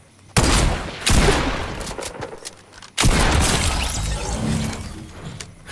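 Bursts of gunfire from a shooting video game played on a Dell Inspiron 14 5000 2-in-1 laptop, two loud volleys with sustained crackling and rattle between them, heard alone without talk.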